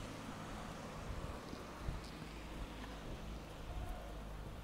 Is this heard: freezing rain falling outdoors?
yes